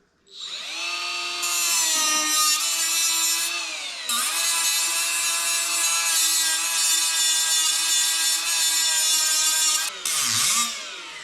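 A power grinder works on a custom Peterbilt drop visor near a windshield, whining loudly and steadily with slight pitch dips, a brief interruption, then a wind-down at the end.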